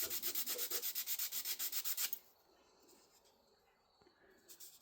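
Sandpaper of 100 grit rubbed flat across a surface in quick rhythmic back-and-forth strokes, close and scratchy for about two seconds before falling to quiet room noise.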